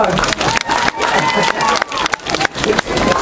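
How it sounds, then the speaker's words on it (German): A live concert crowd in Wolfsburg applauding a band, dense continuous clapping with some cheering, loud and close, under a voice on the PA. "Applaus für den Band, Wolfsburg!"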